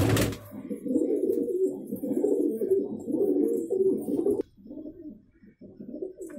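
Malwai pigeons, a Punjabi breed, coo in a steady rolling murmur that runs close and fairly loud for about four seconds, then softens into quieter, broken cooing to the end, with no one talking.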